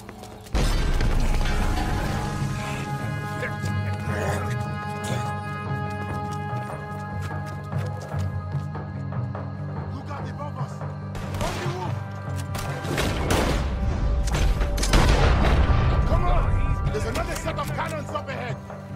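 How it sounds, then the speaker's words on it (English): Cannon fire in Red Dead Redemption 2, with heavy booms and crashes landing over hoofbeats and mechanical clatter. Impacts grow louder and denser toward the end, and game characters can be heard talking. "Cannons up ahead!"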